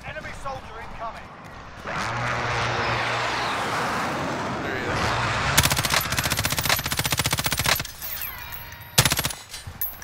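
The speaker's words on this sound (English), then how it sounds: "there's somebody shooting out this way" Automatic gunfire rattles in Call of Duty Warzone, with rapid loud bursts toward the end after a stretch of engine-like whooshing, and a voice speaks over part of it.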